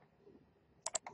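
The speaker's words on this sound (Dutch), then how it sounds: "ik ga het even kopiëren met mijn toetsenbord" Computer keyboard keys clack as a copy shortcut is pressed, three quick, sharp, close clicks in a row after a near-silent pause, quiet overall, with no voices.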